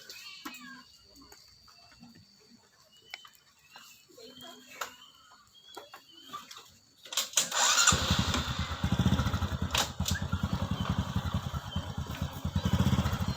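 Cat meows sound faintly and sporadically, then a motorcycle engine starts for a motorcycle taxi ride and idles loudly and close in a steady throb.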